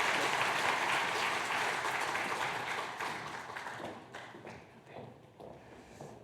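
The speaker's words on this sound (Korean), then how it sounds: "큰 박수 부탁합니다" A church congregation claps loudly after an infant baptism at a Christmas service, the dense applause thinning and fading over several seconds into scattered claps.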